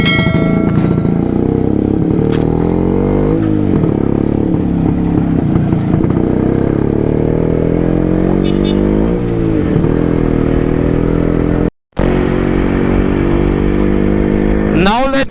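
Two-stroke Yezdi or Jawa motorcycle engine running loud and close throughout, a buzzy ringing drone that repeatedly revs up and falls back as the rider works through gears, with one brief cutout near the end.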